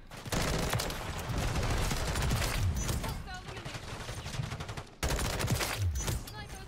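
Full-auto M16 fire in Modern Warfare 3 rattles in long continuous bursts, loud and close, with a brief break before another burst and a voice talking over it at times.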